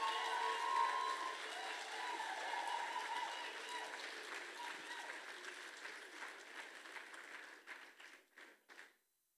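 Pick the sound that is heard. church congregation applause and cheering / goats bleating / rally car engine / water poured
church congregation applause and cheering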